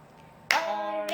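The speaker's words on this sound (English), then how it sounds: "clap for the syllables and see how many syllables" Children clap out the syllables of a word during a pre-primary classroom activity: one sharp, loud clap lands midway, followed by a ringing tone that holds to the end.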